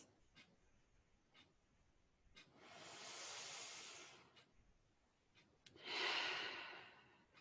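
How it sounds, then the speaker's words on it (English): Deep, slow breaths during a guided yoga and meditation cool-down, with two long airy exhalations, the second louder and closer, and a few short faint sniffs between them in an otherwise quiet room. "let's take a couple of deep breaths"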